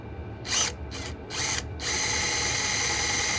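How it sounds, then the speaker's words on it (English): A power drill bites through material in a home workshop, three short bursts of whining drilling followed by a steady, continuous run, loud and close with no talk. "I know with these drills, it's not about speed on these drills. It's about just keep going through."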